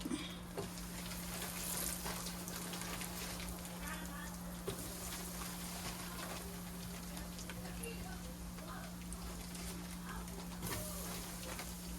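Pieces of roast, corn, carrots and potatoes frying in a pan, a faint continuous crackle with scattered ticking pops and a low steady hum.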